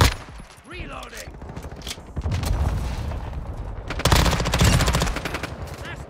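Bursts of BAS-P submachine gun fire in Call of Duty Modern Warfare 2 on the Shoot House map, loud rapid volleys with sharp cracks and a gap between bursts, backed by game effects.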